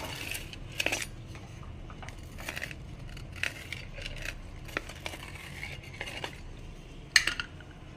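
A crispy masala minapa rotti made from idli batter is cut on a plate: scattered metallic clinks and scrapes, a few sharper taps standing out against a quiet background.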